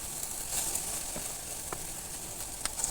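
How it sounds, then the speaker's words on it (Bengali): Biuli dal vadas (urad lentil fritters) sizzle steadily in hot oil, a soft continuous crackle and hiss with small pops throughout, heard alone. "বাকি বড়াগুলোও ভেজে নিলাম।"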